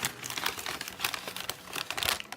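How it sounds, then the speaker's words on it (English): Scissors snip through paper for a journal page, a busy run of close crisp cuts and crinkles with no talk over them. "I think this time I'm going to use scissors"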